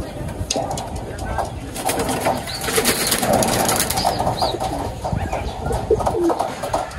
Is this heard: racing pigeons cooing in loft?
yes